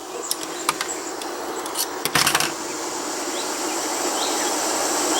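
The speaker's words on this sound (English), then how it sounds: "hopefully you can hear the birds and the stream in the background" Recorded outdoor ambience played back for a model train layout, with scattered chirping birds and a steady broadband rush of a flowing stream underneath, with a few brief clicks and taps close by.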